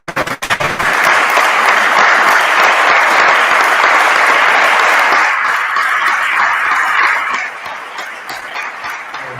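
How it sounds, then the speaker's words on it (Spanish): An audience at a talk bursts into loud, sustained applause after a few sharp opening claps, holding dense for several seconds before thinning to scattered clapping near the end. "ya que me aplauden"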